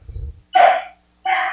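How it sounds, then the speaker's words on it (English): Two short, high-pitched yips from small young dogs, close by, separated by a brief silence, with a faint low rumble at the start. "My dogs are going crazy."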